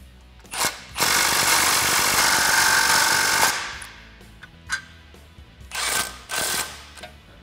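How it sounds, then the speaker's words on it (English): Bolts on a Jeep Wrangler JK suspension lift bracket are driven with a 14 mm swivel socket on a small extension: one sustained whirring run of about two and a half seconds, then several shorter bursts. "I'm going to tighten these down with a 14 millimeter swivel socket as well as a small extension to clear the bracket"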